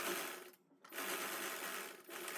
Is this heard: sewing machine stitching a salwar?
yes